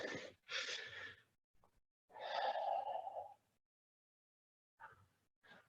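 Deep breathing exercise in an adult fitness class, with a few loud, breathy exhales separated by quiet pauses, up close.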